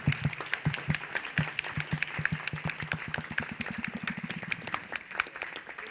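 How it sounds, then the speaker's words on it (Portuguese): Sparse, rhythmic clapping from a small seminar audience applauding the organizers, individual claps distinct and close, quickening and thickening toward the middle before thinning out. "Agora vamos aplaudir os organizadores."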